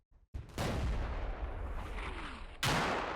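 Artillery fire in the war game Combat Mission: Black Sea: a sudden loud blast opens into a long, dense rumbling roar of battlefield explosions, then a second sharp heavy boom lands near the end, with no talk.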